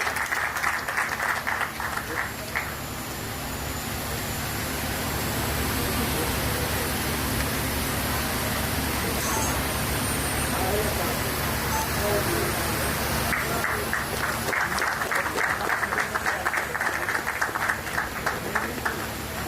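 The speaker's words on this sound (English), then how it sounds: "A big round of applause for him, please." Audience at the Cygni Energy grand opening applauds loudly in sustained, dense clapping, easing into a lower steady roar midway before swelling again toward the end.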